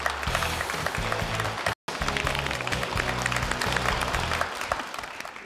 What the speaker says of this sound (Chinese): 掌声有请杜小叶